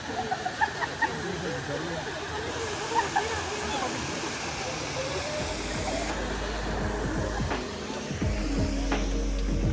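Waterfall water at Poza Azul, Mexico, rushes and hisses steadily throughout, a continuous broad wash of flowing water with some low rumble, close and even in level, with a faint voice in the background.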